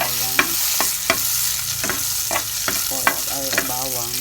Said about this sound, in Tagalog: Ayan, ito magigisa na ako dito sa kabila ng bawang.